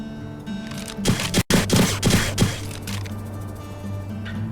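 Target-shooting gunshots at the Sandrock game center in My Time at Sandrock, a handful of sharp separate shots in quick succession over a steady musical background.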